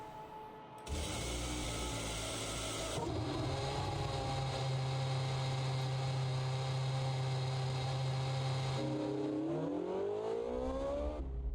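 V8 race car engines in a Chinese Grand Prix racing video game, a loud sustained engine drone holding steady, then rising in pitch as the car accelerates near the end, with no talk.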